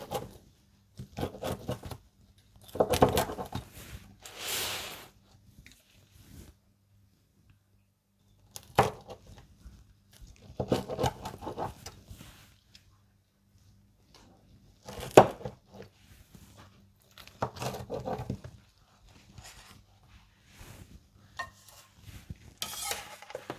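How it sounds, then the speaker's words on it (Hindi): Baked four seasons pizza (quattro stagioni) with mixed toppings being cut and moved into a serving dish: scattered bursts of knife scraping and dish clatter separated by quiet gaps, with no talking. "और अब मैं इसे कट करके सर्विंग डिश में डाल लूँगी।"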